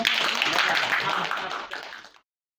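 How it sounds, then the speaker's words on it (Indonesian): A class bursts into applause, a dense burst of many hands clapping close by that fades out and stops after about two seconds. "Tepuk tangan untuk"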